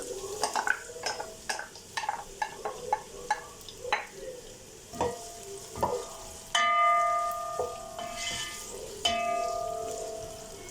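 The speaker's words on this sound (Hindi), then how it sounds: "अब इसमें प्याज ऐड कर देंगे" Onions fry in hot cooking oil over a high flame. Close, busy stirring clatters and scraping knocks sit over a continuous sizzle, with a few clear metallic rings from the pan.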